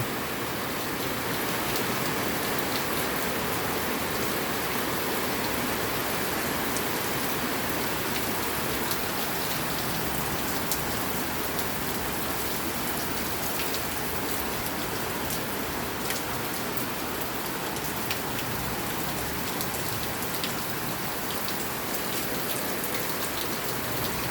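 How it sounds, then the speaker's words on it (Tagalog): Heavy rain pours down steadily in a dense, unbroken hiss of drops on surfaces, loud and constant throughout with no voices. "malakas na naman po mga idol ang pag-ulan"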